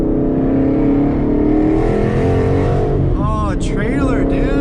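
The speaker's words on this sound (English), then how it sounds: "Give you guys a little exhaust." A Ford Mustang's engine drones loudly and steadily, with exhaust roar building as it revs up, while faint voices and chirping sounds come through near the end.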